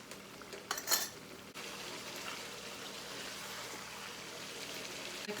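Chicken karahi sizzling and being stirred in a pan, with a brief metallic clatter of a utensil early on followed by a steady, moderately loud frying hiss that continues alone.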